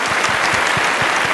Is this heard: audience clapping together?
yes